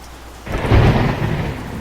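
Heavy rain pours steadily while a deep rumble of thunder swells in and rolls on, loud and close, with no voices.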